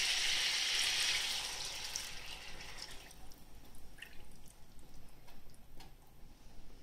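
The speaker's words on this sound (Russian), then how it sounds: "Перец наш обжарился с двух сторон, и теперь мы в него выливаем соус." Sauce is poured over stuffed peppers that have been fried on both sides, giving a brief loud sizzling splash that quickly settles into a quieter, uneven bubbling and crackling.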